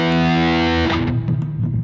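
A guitar played through the distortion effect of a Zoom G1X On multi-effects pedal rings out as a loud, thick sustained chord that is then cut off, followed by a few gritty picked notes.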